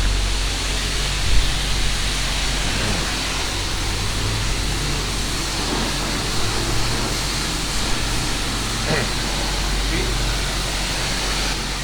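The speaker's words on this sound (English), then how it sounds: "Let me try the high pressure soap." High pressure soap spraying at a car wash on a winter day, a steady loud broadband hiss that runs unbroken and close throughout, with no talk.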